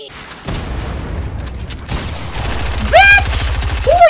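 Gunshots in a video game, a rapid burst of close, loud shots followed by scattered impacts and mechanical clatter, with sharp electronic whines near the end.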